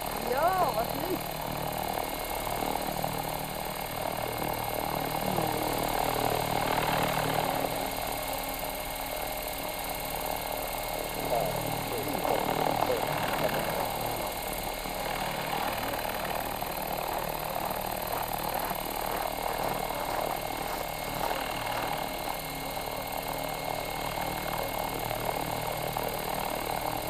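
An Align 800 radio-controlled helicopter flies at an outdoor heli camp in Oulu, its steady rotor and motor drone rising and falling over nearly half a minute while people chat nearby.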